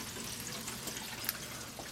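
Water runs through house plumbing at full pressure during a flush of a home water system, a faint, steady rushing hiss with a small click partway through.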